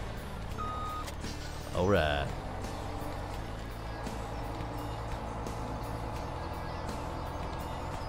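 A truck in Farming Simulator 2017 idles with a steady hum and regular reversing beeps, a brief louder rumble early on, while someone talks over it.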